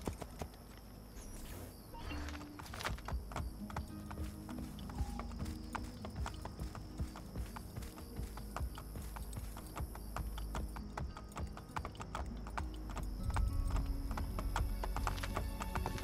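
Horse hooves clip-clop steadily through the Assassin's Creed Brotherhood game world, a continuous rhythmic trot over a low rumbling ambience with faint mechanical clicks, with no talking.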